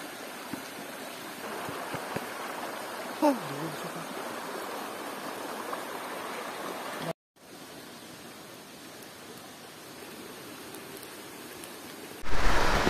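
Steady, fairly quiet rush of river water flowing near a waterfall at a riverside campsite on the NZU river, an even hiss throughout with a brief faint voice and a short dropout midway.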